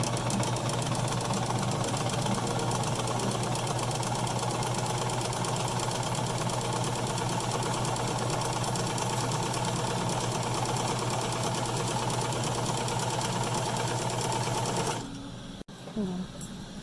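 A sewing machine runs steadily while stitching a fabric mask with white thread, a close, continuous mechanical whir and rapid rattle that stops near the end.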